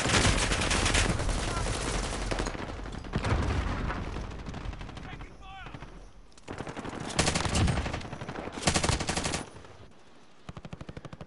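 Rapid bursts of automatic gunfire in the shooter game Rebirth, long loud volleys broken by short pauses, with a few single shots near the end, dense and close.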